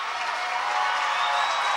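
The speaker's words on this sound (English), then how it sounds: "That draws a huge celebratory round of applause from the Wildcat faithful" Big home crowd at a Mississippi Class 4A high school state championship baseball game applauds and cheers after an outfielder's catch, a steady, dense wash of clapping and crowd noise held at even loudness throughout.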